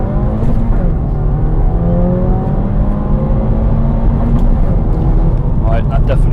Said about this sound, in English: Accelerate vehicle to begin.